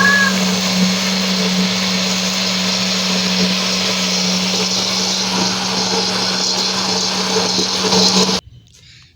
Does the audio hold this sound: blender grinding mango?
yes